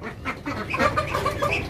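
Ducks and chickens kept at home give a short burst of overlapping calls and quacks, close and moderately loud, with no talking.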